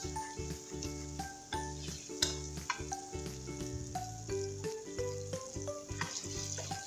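Diced potatoes sizzle steadily in hot oil in a pan for aloo gobi, with a continuous frying hiss broken by repeated spoon scrapes and stirring knocks, heard close and alone.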